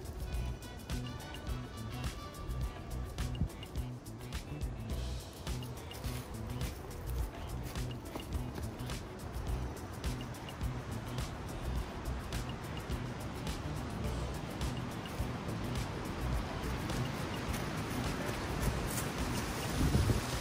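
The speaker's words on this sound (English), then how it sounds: "Did I mention the wind advisories around here today?" Strong gusty wind buffets an unprotected microphone outdoors on a disc golf course, a loud, continuous broadband roar that swells and churns for the full length with no talking.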